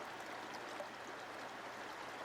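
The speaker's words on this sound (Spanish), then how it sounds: "El agua baja con esa voz antigua que los bosques aprenden de memoria" A river in the Great Smoky Mountains near Gatlinburg runs in a soft, even rush, a faint and steady broadband murmur of flowing water with no voices over it.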